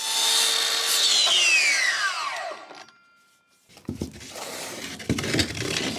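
A Makita 216mm mitre saw fitted with a new blade spins down with a falling whine, goes quiet, then cuts through wood with a harsh rasping grind.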